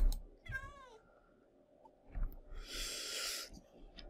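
Cat meowing in Minecraft (Hexxit modpack), a short rising-falling meow near the start followed by a louder hissy burst later, fairly quiet against a low background with brief breathy noises.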